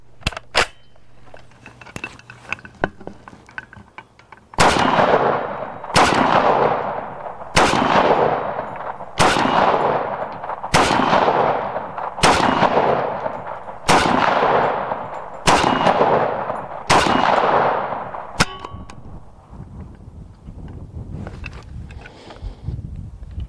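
A WWII-era FG42 Type I rifle fires a full magazine as nine spaced, sharp shots with ringing decay, loud and close, each report roughly a second and a half apart, followed by quieter outdoor range ambience.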